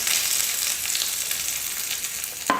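A tempering of urad dal and curry leaves in hot oil for chutney sizzles close and steady without pause. A small clatter of a utensil comes just before it ends.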